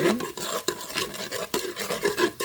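A seasoning packet stirred into rice cooking for arroz con gandules, with rhythmic scraping and rubbing strokes of a spoon against the pot, close and steady, no talking.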